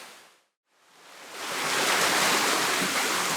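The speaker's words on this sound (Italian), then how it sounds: "Sono praticamente sotto la cascata, qua arriva un sacco di acqua nebulizzata" Waterfall heard from directly beneath, spray roaring as a dense, hissing wash that swells in from near silence and holds loud and steady.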